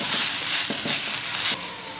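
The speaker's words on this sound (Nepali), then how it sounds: "जिजी पेस्टलाई पनि एकछिन फ्राई गर्नुपर्छ," Ginger garlic paste sizzles in a hot pan beside fried gundruk while cooking a Nepali gundruk soup with egg; a steady close frying hiss with a few soft stirring scrapes, dropping quieter near the end.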